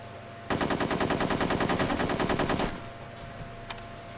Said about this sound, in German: Auf was hast du gerade geschossen da?